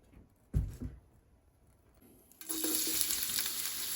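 Moong dal hits hot oil for vegetable khichuri after a couple of dull thumps, and a loud, bright, continuous sizzle starts abruptly and holds close up for the last seconds.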